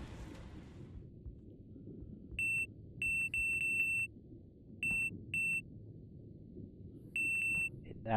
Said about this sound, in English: It now goes beep when I press E.